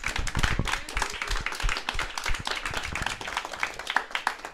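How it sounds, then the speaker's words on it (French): An audience at a partnership signing event for Passerelles Numériques and Axiv IT in Cambodia claps in a steady, scattered patter of individual hand claps, moderately close. "on peut vous applaudir"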